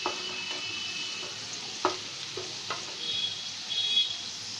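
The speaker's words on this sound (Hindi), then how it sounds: "ऐसे ही हमें तेल में इसे लहसुन को भूनना है।" Garlic frying in oil on a medium flame, a soft continuous sizzle with a few brief stirring scrapes, fairly quiet and close, no talking.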